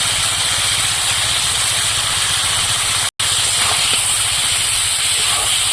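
Ginger paste added to boiled potatoes in a hot pan on a stove gives a loud, steady sizzle and hiss that runs almost without pause, broken only by a brief cut near the middle.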